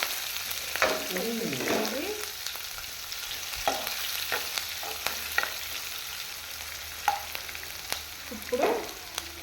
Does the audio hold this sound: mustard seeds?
yes